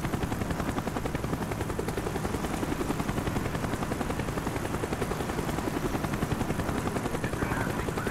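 A helicopter in the Call of Duty Black Ops video game, a loud, constant rotor chop filling the whole stretch with rapid steady blade pulses and broad engine roar, close and unbroken.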